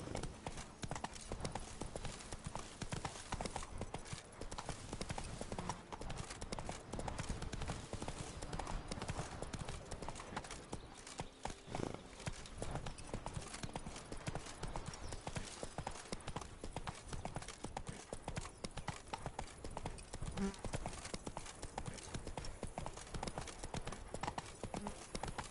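Roach the horse gallops in The Witcher 3, a steady rapid clip-clop of hooves running continuously and close, with a brief rider shout buried beneath.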